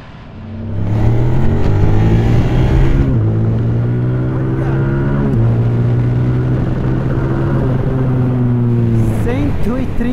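A naked motorcycle engine, revved toward 11,500 rpm, roars loudly up through the gears. Its climbing whine drops briefly at each shift before pulling hard again, close and continuous.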